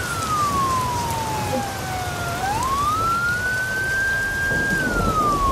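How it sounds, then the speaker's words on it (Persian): A police car siren wails nearby, its pitch sliding slowly down and then sweeping back up, heard steadily over the patter of rain. "صدای آژیر پلیسه."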